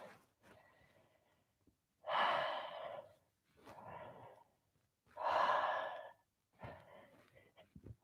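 Slow, deep breaths taken while bent forward with fingers just above the ground, loose head and arms, in a trauma-release exercise; two loud, long exhalations alternate with softer inhalations, close and alone, with no talk.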